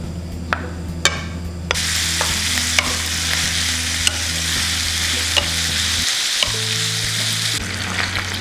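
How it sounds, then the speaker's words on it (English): Gochujang beef fries and sizzles loudly in a pan while being stirred. Scraping strokes and clicks from the utensil sit over a constant close crackle, which dips for a moment near the end before coming back. "Cook the beef."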